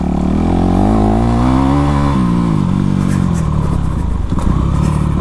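A Honda CRF450 off-road motorcycle engine drones loud and close as it is ridden, its throttle rising and dipping throughout, with some clattering from the bike near the end.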